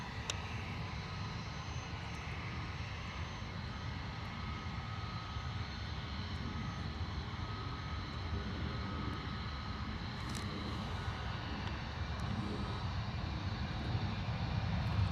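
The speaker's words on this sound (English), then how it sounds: "here we go, 321neo rolling" An Airbus A321neo jet starts its takeoff roll on a misty runway at London Luton Airport, a steady broad engine roar heard from a distance that builds only slightly and holds without a break.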